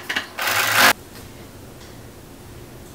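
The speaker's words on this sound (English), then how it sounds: "I'm going to go ahead and go to the serger, and I'm gonna serge down this entire seam, just seam finish." A serger overlocks the side seam of a summer dress as a seam finish, sounding as one loud, steady mechanical whir of about half a second, near and alone, followed by quiet room tone.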